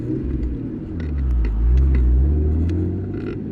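1999 Nissan Skyline GT-R R34 V-Spec engine on the move, a deep rumbling drone heard from the cabin that swells as revs climb, then eases slightly, close and loud with no speech.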